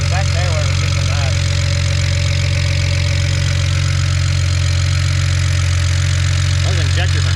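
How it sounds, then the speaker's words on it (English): A BMW 335 with the N54 engine idles steadily up close, a low constant hum carrying a busy ticking chatter from loud fuel injectors, with faint warbling tones now and then in the background. "Those injectors are loud."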